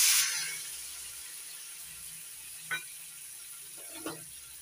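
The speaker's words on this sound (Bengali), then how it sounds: "কড়াই গরম হয়ে গেছে, আমি কড়াইতে দিয়ে দিচ্ছি একটু জল।" A splash of water poured into a hot wok sets off a sharp burst of hissing sizzle that quickly fades to a low steaming hiss, with a couple of soft clinks afterward.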